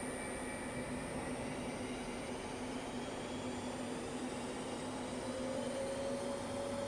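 A Harrison 13 by 40 inch flat bed lathe with a Camlock D14 spindle running at 500 RPM, giving a steady, even mechanical hum and whine, constant and unbroken, with no talking.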